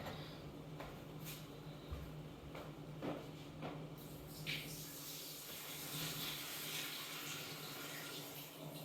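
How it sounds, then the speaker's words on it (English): Water from a cooking pot poured out into a kitchen sink, a soft steady splashing rush with a hiss, fairly faint and close, with no talking. "I'm going to dump this water out."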